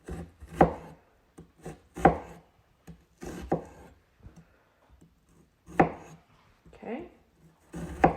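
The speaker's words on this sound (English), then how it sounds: "And you're going to slice, but not all the way to the center, so that the onion itself stays together" Knife slicing partway through an onion on a cutting board, leaving it joined at the root: several sharp, close chopping thuds in uneven bursts, with a brief spoken word.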